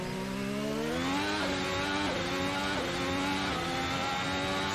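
A Formula 1 race car in a racing game at the British Grand Prix, engine whining steadily with repeated downshifts and dips in pitch as it brakes, then revving back up, loud and close with no talk.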